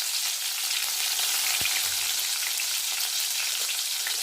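Chopped green chillies and mustard seeds frying in hot oil in a pan for Tamil sura puttu (shark puttu): a steady, close hiss of sizzling with faint crackles and no voice.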